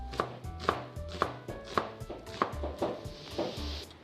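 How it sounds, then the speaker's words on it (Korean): A knife chops half an onion finely on a cutting board, about a dozen crisp, evenly spaced thuds and clicks, close and clear with no talking. "단맛과 감칠맛을 낼 양파는 반 개만 잘게 썰어줍니다."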